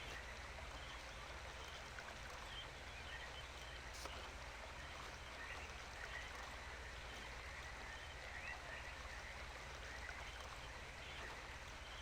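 Water flows steadily through the Channelwood age of the Myst game, a continuous, even rush and trickle with no breaks for about twelve seconds. No voices are heard over it.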